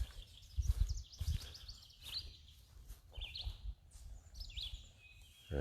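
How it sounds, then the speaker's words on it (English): A red-eyed vireo sings from treetops on an early morning arboretum walk, its short high phrases repeating with pauses between them over soft low thumps and rustling. "I think that's him singing up over there. Yep, there's the red-eyed vireo."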